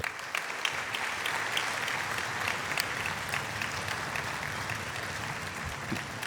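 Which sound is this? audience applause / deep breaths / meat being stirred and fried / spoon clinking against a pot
audience applause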